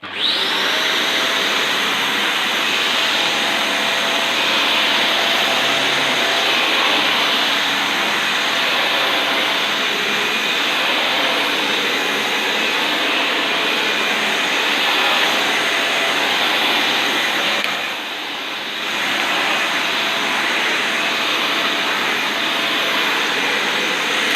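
A Dyson Cinetic Big Ball vacuum cleaner runs on grooming carpet, a loud, steady high-pitched motor whine that holds for nearly the whole stretch, dipping briefly once before resuming, with no talking.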